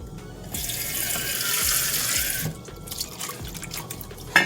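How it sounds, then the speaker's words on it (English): Kitchen sink tap running as something is rinsed out while cooking turnip or rutabaga, a close hiss of flowing water for about two seconds, then softer splashing and drips with a small clink at the end. "Rinse it out."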